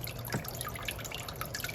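Water poured onto Hoya houseplants indoors, a faint steady trickle and patter of drips into the potting soil, low and continuous throughout without any voices.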